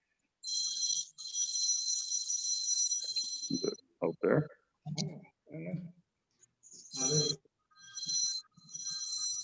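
A phone ringtone goes off during a planning board meeting, a bright electronic ring repeating in long bursts close by, while voices speak briefly between the rings.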